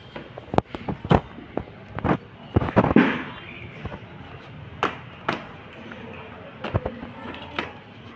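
Plastic packaging of a selfie stick being cut open, close sharp snips and clicks in an irregular run with a brief rustling crinkle of wrap in the middle.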